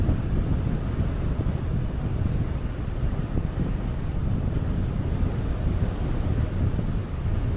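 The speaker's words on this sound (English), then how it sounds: "Going into a pretty stiff headwind." Heavy wind buffets the microphone while an e-bike with a Bafang kit rides into a stiff headwind, a loud continuous roar with no breaks.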